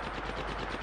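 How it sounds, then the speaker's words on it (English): Rapid automatic gunfire from the Apex Legends battle royale game on Nintendo Switch, a dense continuous burst of shots lasting under a second, loud and close with no talking. "Gunshots!"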